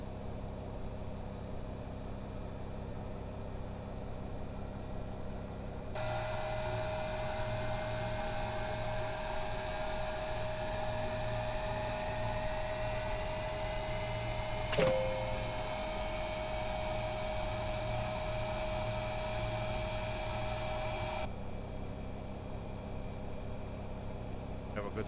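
A jet airliner's right engine spools up during start on a flight from San Juan to Trinidad, a steady rising whine and hum building inside the cockpit, with a brief sharp click midway.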